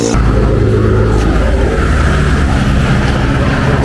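Yamaha Aerox scooter running with a noisy side part, a loud steady engine drone with road and wind rumble throughout and no voices.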